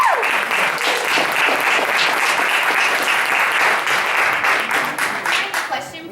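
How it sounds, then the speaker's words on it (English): An audience at a Hamblen County sheriff candidates' forum in 2014 claps in a dense, sustained burst of applause that tapers off near the end. "can you please hold your applause just for time's sake"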